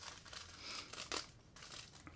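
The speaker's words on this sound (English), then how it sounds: "And then you just gently tear away" Tissue paper being gently torn away from stitched fabric while sewing thumbhole cuffs, a close, soft crinkling and ripping that swells in a couple of short bursts over about two seconds, with no talking.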